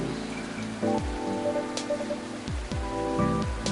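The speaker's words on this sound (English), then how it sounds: "This rainy season sure is something." Rainy-season ambience in the video game Coffee Talk 2 gives a steady patter of rain over soft background music with sliding tones, gentle and continuous throughout.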